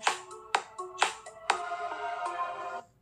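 A bright plucked melody plays from a phone, with a few sharp struck notes followed by a sustained ringing chord, clear and close with no talking.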